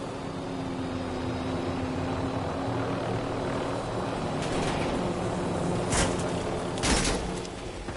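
A helicopter flying in the video game Call of Duty, its rotor and engine drone steady and close, with a couple of sharp bursts near the end and no talk.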